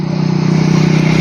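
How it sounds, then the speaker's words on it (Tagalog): A motorcycle passes by on a road, its engine a steady loud hum close to the listener over a brief moment, with no talking. "Apat na motorsiklo na dumaan."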